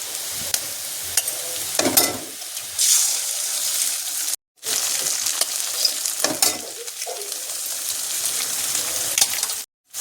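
Loud, continuous sizzling of egg frying in hot oil with onions, with occasional stirring scrapes and two brief cuts to silence.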